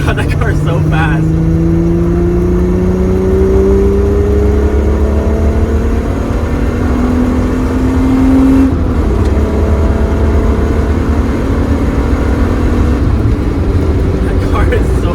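A Volkswagen VR6 engine drives at speed on the Autobahn, a steady mid-pitched drone whose tone rises gradually as it accelerates, dips once, then climbs again, with road and wind roar underneath.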